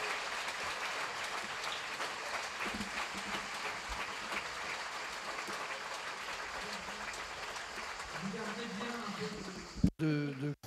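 A conference audience at the Rencontres Économiques in Aix applauds in a steady, dense wash of clapping that stays loud and even, with a brief voice near the end.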